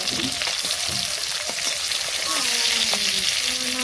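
Fish frying in oil makes a loud, close, continuous sizzle with fine popping and faint bubbling tones throughout a short burst, with no talking.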